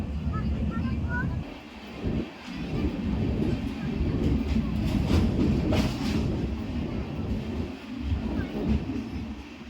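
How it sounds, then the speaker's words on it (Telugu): The Ratnachal SuperFast Express runs between Visakhapatnam and Vijayawada, a continuous loud low rumble and roar of the moving train heard from on board, with a voice speaking over it. "మనం ప్రయాణం చేస్తున్న రత్నాచల్ వచ్చేసరికి విశాఖపట్నం నుంచి విజయవాడ అయితే వెళ్తుంది"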